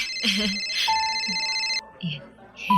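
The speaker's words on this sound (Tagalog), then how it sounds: "babe, yung cellphone mo nagre-ring" A cellphone rings with a bright repeating ringtone tone that sustains, cuts off, then briefly resumes, heard at moderate level beneath and between people talking nearby in a quiet indoor setting.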